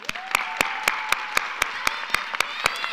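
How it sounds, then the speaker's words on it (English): Graduation audience applauding faculty and administrators at a spring ceremony, with steady clapping broken by sharp, evenly spaced louder claps, moderately close, and whistle-like tones drifting over the crowd. "can we give them a round of applause?"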